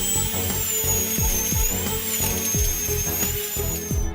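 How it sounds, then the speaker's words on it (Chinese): A dental drill whines at high speed as it bores into hard jawbone to prepare an implant site, a loud steady tone with repeated lower grinding strokes. "为了穿透坚硬的牙槽骨，医生调高了钻头速度"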